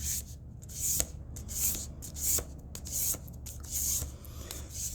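Tarot cards with covers rubbing with friction during a side shuffle, a rhythmic series of soft raspy swishes repeating about once a second, close and quiet without talk.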